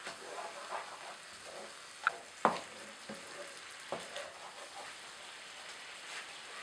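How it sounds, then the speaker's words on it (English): Prawns stir-frying in a hot pan for a hot sweet and sour dish, giving a soft, steady sizzle with a couple of sharp utensil clicks against the pan and no talking. "Stir fry this just for a second and then add yogurt"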